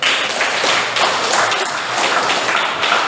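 A classroom of students applauds for a presenting group, a dense, loud, steady burst of many hands clapping together without pause.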